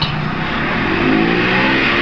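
A Perodua Viva engine revs steadily in fourth gear, a loud, continuous drone whose pitch climbs gradually over two seconds, close to the cabin with no talk.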